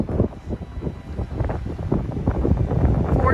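Wind gusting along the Appalachian Trail, a loud rumbling buffet against the microphone that rises and falls without a break.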